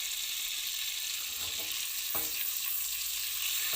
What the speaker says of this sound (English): And now we're burning the butter.